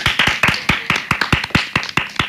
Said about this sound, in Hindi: इसी बात पे इनके लिए एक बार फिर से ताली बजा दो।